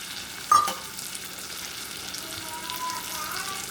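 Vermicelli and rice frying in melted fat in a pan, a steady soft sizzle with a brief clatter near the start.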